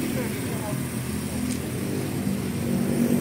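A Suzuki Palette's engine runs at a steady idle, a low humming drone with a slight rise near the end, heard beneath a speaking voice.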